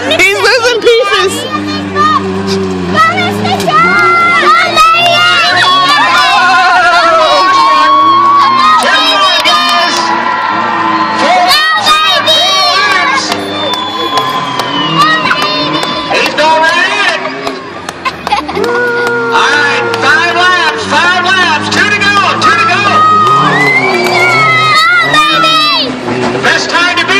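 A loud fairground crowd with children shouting and cheering at a Tuff Truck race at the Yuma County Fairgrounds, continuous dense cheering and babble with engine rumble underneath.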